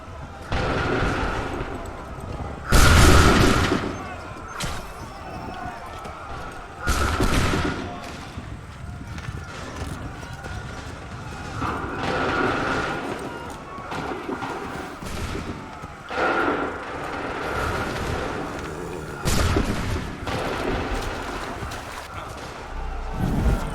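Musket volleys and explosions in the video game Assassin's Creed 3, a battle scene with several loud, booming volleys at intervals over constant rumbling din, with voices heard in the mix.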